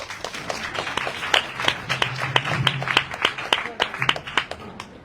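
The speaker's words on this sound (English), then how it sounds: "Loud applause." An audience at a Bhagavata-saptaha religious gathering claps in scattered, uneven applause that carries on steadily, with a voice speaking over the clapping.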